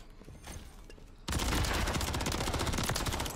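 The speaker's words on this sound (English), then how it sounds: "I just shot him through the smoke." Rival 9 fire from the video game Modern Warfare 3 opens after a quiet moment as a sudden, loud, sustained burst of rapid close shots that runs without pause to the end.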